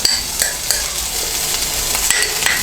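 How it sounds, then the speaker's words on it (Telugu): Onions frying in a pan with salt, chili and turmeric, a continuous bright sizzle with scattered clinks and scrapes of a spoon stirring close by. "ఉల్లిపాయలు వేగినాయి."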